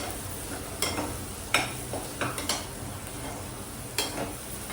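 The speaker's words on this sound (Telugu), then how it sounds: "ఉల్లిపాయ మగ్గింది, అల్లం వెల్లుల్లి వేద్దాం." Onion, ginger and garlic fry in hot oil in a pan, a steady soft sizzle broken by several sharp scrapes and taps of a spoon stirring against the pan.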